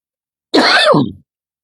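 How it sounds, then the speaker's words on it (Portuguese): A woman clears her throat once with a short raspy cough, a single close burst lasting under a second, alone in silence. "a minha garganta, essa tosse, desculpa"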